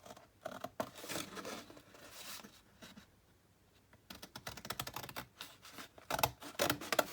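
Scissors cutting out paper pictures for a junk journal, with quiet snips, rustles and crisp paper sounds coming in close bursts and no talking.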